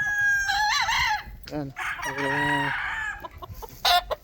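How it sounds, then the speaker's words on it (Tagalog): Gamefowl roosters crow loudly and close by on a gamefowl farm, several long calls with clucking between them, and someone briefly speaks. "Mga manok nila."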